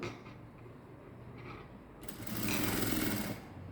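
A sewing machine runs one fast, close whirring stitch burst of about a second and a half on a princess-cut blouse with balloon sleeves, after quiet room tone.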